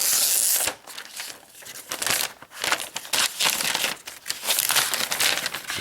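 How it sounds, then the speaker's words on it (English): Protective plastic film peeled off an Asus Transformer Prime keyboard dock, a close, loud, continuous crinkling and tearing with brief pauses between pulls. "let's go ahead and peel the plastic off"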